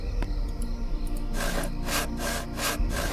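A homemade saw cutting through a metal bolt in a puzzle adventure game, a brief scrape followed by a run of rhythmic rasping back-and-forth strokes.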